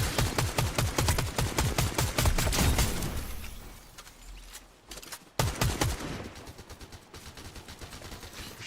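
Rapid bursts of gunfire in a Fortnite match, fast rhythmic automatic shots at close range, a pause, then another sustained volley, no talk.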